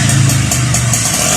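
A restored 1979 Yamaha QT50 moped engine runs close to the microphone with a loud, steady, buzzing drone.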